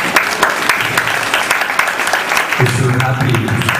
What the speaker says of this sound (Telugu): క్లాప్స్ కొడతాము.